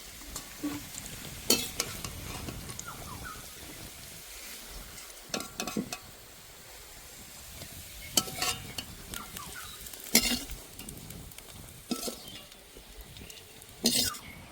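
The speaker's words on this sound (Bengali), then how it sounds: "আপনারা এরকম ঘন ঘন করে নাড়া দেবেন, তাহলে কিন্তু এঁচড়গুলো খুব সুন্দরভাবে ভাজাটা হবে।" Chunks of young green jackfruit (echor) fry in hot oil in a pan, a soft steady sizzle broken every couple of seconds by sharp scraping knocks of a spoon stirring against the metal.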